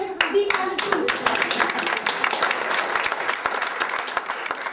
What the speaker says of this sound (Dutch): Mag ik een applaus voor de vrijwilligers die aan het doen?